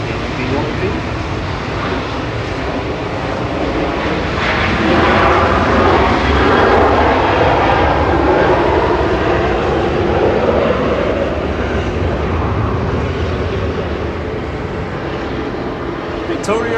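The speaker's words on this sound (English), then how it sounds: "right there, departing now, heading off to also Charleroi with flight 613, the LED1B." An airliner departs Manchester Airport as flight 613 to Charleroi, a loud, close, continuous jet roar with a gradually shifting pitch that peaks midway, while a voice talks over it.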